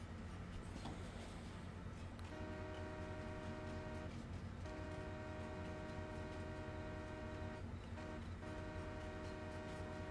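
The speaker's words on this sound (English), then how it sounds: "It's the night train." A night train passing a level crossing in Farming Simulator 22, a faint steady rumble of rolling wagons with sustained horn-like tonal blasts starting a couple of seconds in, broken by short pauses.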